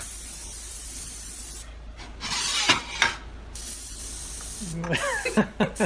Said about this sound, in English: first you want to spray your pan so it doesn't stick